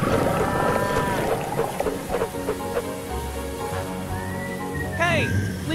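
A cartoon cow moos in bursts while animated characters talk excitedly over it, the lowing heard near the start and again toward the end.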